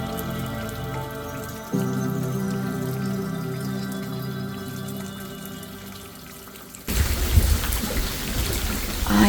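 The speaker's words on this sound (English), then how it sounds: "It is a beautiful, beautiful rainy day" Steady rain on a morning during a South African safari, a soft continuous hiss that grows louder and rougher near the end.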